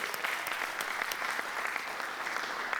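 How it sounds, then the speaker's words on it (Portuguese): Church congregation applauding during a worship service, a steady wash of clapping hands heard at a moderate distance, continuous for a few seconds. "pode aplaudir, aleluia"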